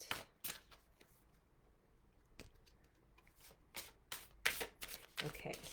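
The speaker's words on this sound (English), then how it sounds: "I'm going to shuffle a couple more decks" Cards riffle and flutter in several short shuffling bursts, quiet and close, separated by brief pauses.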